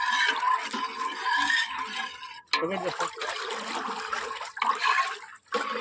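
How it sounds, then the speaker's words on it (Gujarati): A full glass of lemon water is tipped out at a Meldi Mata mandvo festivity. Liquid gushes and splashes continuously, with a brief pause partway through, while voices murmur underneath. "ઓલો લીંબુનો ગ્લાસ ભરેલો છે એ નાખી દેજો"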